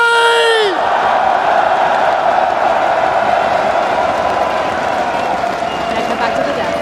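A packed arena crowd at the PGL Major Antwerp 2022 esports event roars and cheers loudly and continuously after a brief opening musical tone, with whoops and applause blending into a sustained wall of noise.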